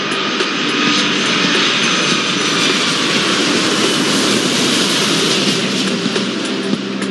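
Airplane engines in the Airport Madness 4 airport traffic control game roar in a steady, loud, unbroken drone with no pauses and no talk.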